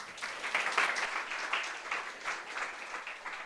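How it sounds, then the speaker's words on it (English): A hackathon audience applauds steadily, a dense patter of many hands clapping at moderate distance and holding an even level throughout. "Round of applause"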